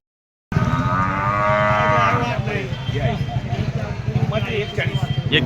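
Cattle at a bull market in Murgud low loudly and close by in one long, drawn-out moo, while people talk over and around it.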